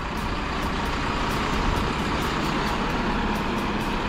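A large luxury coach maneuvers through a tight turn at a Mumbai bus parking area, its engine a steady, loud rumble with broadband road noise throughout and no talk.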